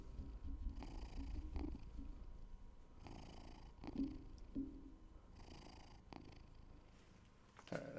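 A white cat purrs close to the microphone, a low rumbling, rhythmic purr pulsing with each breath, soft and steady with no talk.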